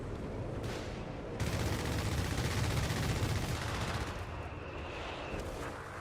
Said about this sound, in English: Now a strafing run.